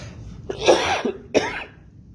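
Two harsh coughs from one person close by, the first longer and rougher, the second short and sharp, with no talking.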